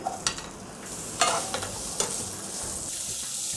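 Steady sizzling of chopped onions frying in oil in a pan, with a few stirring scrapes and clicks over the continuous crackle; no voices.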